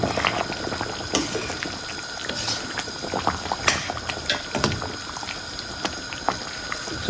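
Beef mechado simmering in a covered pot, a steady close bubbling boil with scattered pops and small liquid splashes throughout, no talking.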